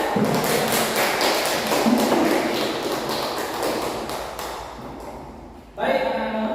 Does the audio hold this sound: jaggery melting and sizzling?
no